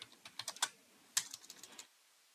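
Quick bursts of keystrokes on a computer keyboard as code is typed, a short run of close, crisp clicks that stops after a couple of seconds.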